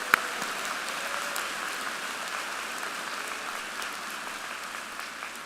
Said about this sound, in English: Will you please join me in another round of applause for beach volleyball?